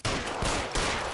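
Loud, close gunfire in L.A. Noire: a dense, cracking burst fills the whole short moment, with a second surge of shots near the end.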